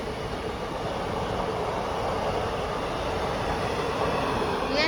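A new Bengaluru–Mumbai passenger train picking up speed, heard from inside as a steady, loud rushing rumble with continuous wheel and track noise throughout.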